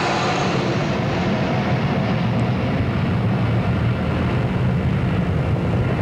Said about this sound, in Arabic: تمر الآن الطائرات المشاركة في العرض الجوي، طائرات جاغوار وطائرات هنتر وطائرات هليكوبتر للنقل